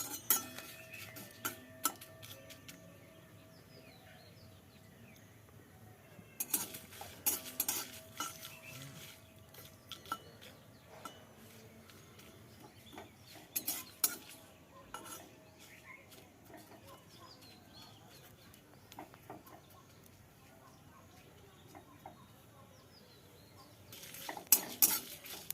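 Roasted chillies and cumin are stirred in a dry pan with a metal spoon, giving soft scraping and sporadic clinks against the pan in several short bursts with quiet gaps between, close and fairly faint.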